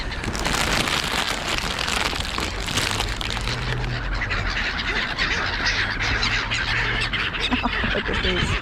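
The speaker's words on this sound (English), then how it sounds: "Those are, the larger ones are the mule gulls right in front of us here." Mew gulls call and honk in a dense, continuous flock chorus close by, among other birds being fed peanuts beside an auto dealership, with steady background noise throughout.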